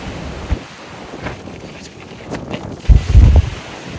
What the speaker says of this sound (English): it's also very windy, so it's hard to film